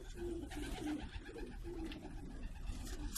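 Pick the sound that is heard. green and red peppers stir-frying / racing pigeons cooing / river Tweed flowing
racing pigeons cooing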